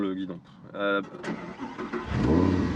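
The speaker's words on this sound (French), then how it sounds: "je vais juste remettre le contact pour remettre le guidon" A voice speaks briefly, then a car's ignition clicks on and an engine churns and rumbles to life close by.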